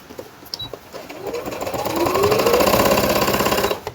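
A sewing machine stitching pleats into turban fabric, its needle motor running in a rapid mechanical chatter that speeds up and grows louder, then holds steady to the end of the seam.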